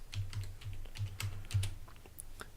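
Quick, light keystrokes on a computer keyboard while entering figures into an Excel spreadsheet, a close, irregular patter of clicks with short pauses.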